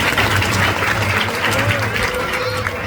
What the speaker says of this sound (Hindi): ज्ञानेश्वर जी के लिए जोरदार तालियां दें